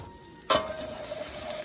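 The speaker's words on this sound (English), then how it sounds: "Stir that around." Seasoned potatoes sizzle steadily in a hot pan as a stirring scrape kicks in at about half a second, then a bright, continuous fry hiss carries on close and loud, with no talking.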